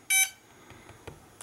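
A Xiro drone gives one short, loud electronic beep during a firmware update, followed by faint clicks and quiet handling noise.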